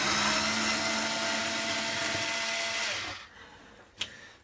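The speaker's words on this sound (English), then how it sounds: "Alright, the screws are being removed." A power screwdriver removing screws from a Whirlpool top-load washer whirs steadily at close range for about three seconds, then cuts off, followed by a brief sharp click near the end.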